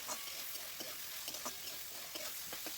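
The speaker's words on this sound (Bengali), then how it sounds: "গাজরটা একটু ভাজার পরে দিয়ে দিলাম বিনস কড়াইগুলো আমি এর সাথে একটু ভেজে নেব। ভাজাভাজি করছি।" Carrots and green beans fry in a wok, giving a low, steady sizzle with soft stirring scrapes and light ticks scattered throughout, close and fairly quiet, with no voices.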